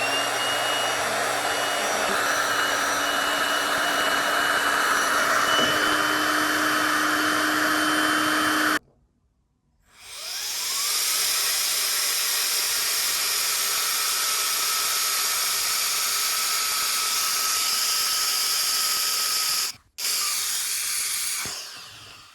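A VSGO battery-powered electronic air blower runs with a loud, steady whirring hiss. It stops briefly, restarts and holds a constant roar, then drops out for an instant before starting again.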